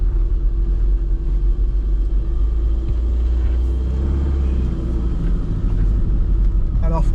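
A classic Mini Cooper engine idles with a low, steady rumble while the car reverses, close and continuous, a voice speaking over the drone.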